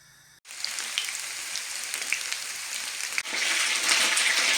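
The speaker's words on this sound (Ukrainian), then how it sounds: "розігрівається олія, буду смажити" After a brief quiet moment, hot oil bursts into a steady sizzle and grows louder as onion fries close by.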